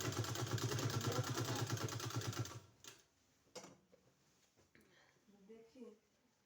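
A sewing machine stitches a neck design with a fast, even mechanical rattle for a couple of seconds, then stops abruptly, leaving faint handling clicks and soft background sounds.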